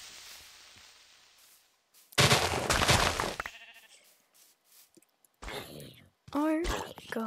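Blocky sheep in the game Minecraft bleat in short bursts near the end, following a loud burst of noise and scattered clicks, with no talk over it.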